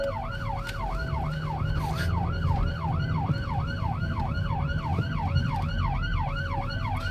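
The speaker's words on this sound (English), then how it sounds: "So we keep our sirens on completely different tones" A wailing emergency siren cycles steadily up and down, loud and continuous with a second steady tone beneath, over a rumbling engine and traffic.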